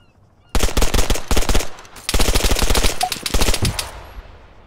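Heavy .50 caliber rifle fire in the video game ArmA 3, loud and close, coming in two long rapid bursts of repeated shots separated by a short pause, with a fading echo at the end.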